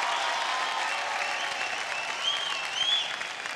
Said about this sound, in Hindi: कम ऑन गाइस, जोरदार तालियां हो जाएगा।